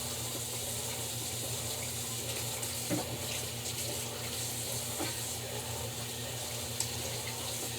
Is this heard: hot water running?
yes